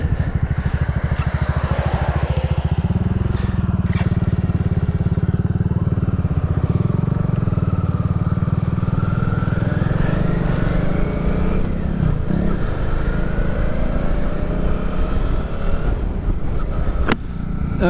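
A Suzuki V-Strom 650 XT motorcycle rides along with its engine droning steadily and loudly throughout, revs rising and falling slightly under heavy wind buffeting, with brief voices from the rider.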